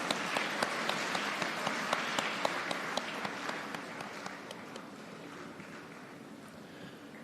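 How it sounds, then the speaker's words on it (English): An audience at a university convocation ceremony applauds steadily, dense clapping from a sizable crowd that gradually fades in loudness, with no voices over it. "Let us give them a huge round of applause."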